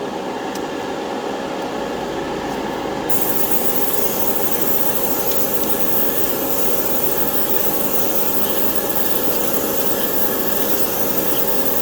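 Steady airbrush hiss spraying water to wet down a hobby spray booth and its filter, a constant broadband spray running close and loud for the whole stretch with no pauses.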